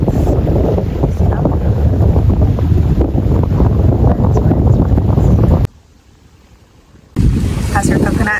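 A sea breeze on a beach in Cuba buffets the microphone in loud, continuous gusts, broken by a brief quiet gap before the wind noise returns.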